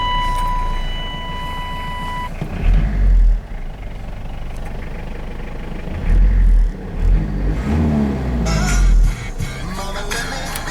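A 1994 Chevy S10 converted from gas to diesel cranks and starts up, with low engine thumps and bursts of revving over a steady idle rumble, after a high warning chime at the start.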